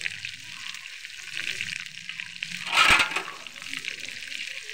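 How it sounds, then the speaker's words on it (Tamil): Curry leaves frying in hot oil for paneer 65, a steady close sizzle with a brief louder crackling burst as they are stirred, while someone talks quietly. "கருவேப்பிலையும் பாருங்க நல்லா ஃப்ரை ஆயிடுச்சு."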